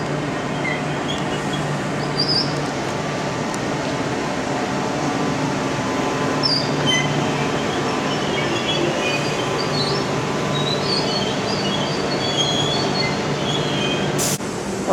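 A Southeastern class 395 high-speed electric train at London St Pancras station, a steady loud rumble and hum of the train and rail noise with faint squeals, continuous throughout.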